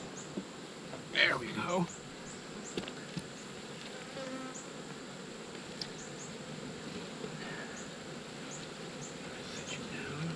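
Bees buzz around an open beehive in a low, steady drone, with a few louder buzzes passing close by and some faint handling knocks, while a person speaks briefly.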